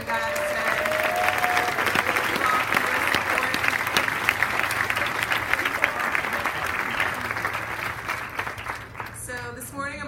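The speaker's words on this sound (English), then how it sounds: "Let's give a round of applause to all the parents and families who came down for you guys today." Sustained applause from a large audience at a Class of 2019 commencement ceremony, steady and dense for the full stretch, with voices murmuring and calling beneath it before tapering slightly at the end.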